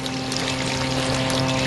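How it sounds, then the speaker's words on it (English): Heavy simulated rainstorm water spraying steadily onto a roof skylight boot, a dense continuous hissing rush with a low mechanical hum beneath, loud and close with no pauses. "And that's a considerable heavy rainstorm"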